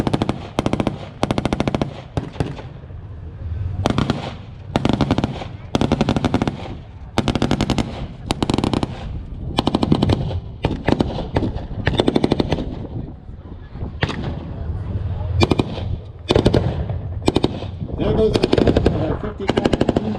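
Machine gun fire at a tank museum battle demonstration, rapid bursts of loud automatic gunfire repeating throughout in close and mid-distance volleys, with faint voices between bursts.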